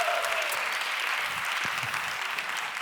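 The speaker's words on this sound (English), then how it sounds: "please give me another round of applause" An audience claps steadily through the whole stretch, a dense, even round of applause filling a hall after a request for more, with no voices standing out.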